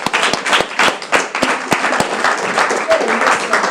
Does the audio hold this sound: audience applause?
yes